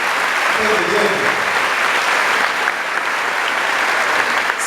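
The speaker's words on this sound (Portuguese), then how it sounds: "Pode aplaudir, isso é santidade." A congregation applauds at a Catholic prayer group gathering, dense sustained clapping filling the room evenly from start to finish.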